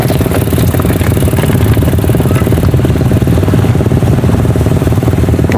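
A motorcycle engine runs rough and misfires at a cross-country duathlon event in San Jose City. Its loud, close, continuous chugging clatter has an uneven, stumbling rhythm.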